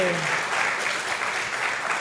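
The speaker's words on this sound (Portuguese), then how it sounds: "Aplausos para ela." Studio audience applause on a comedy show, a loud, even roar of clapping that fills the whole two seconds, with a brief voice at the very start.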